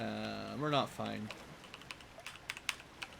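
A computer keyboard is typed on in quick, irregular, faint clicks and taps, following a short vocal sound at the start.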